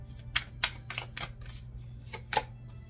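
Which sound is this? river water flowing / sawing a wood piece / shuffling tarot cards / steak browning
shuffling tarot cards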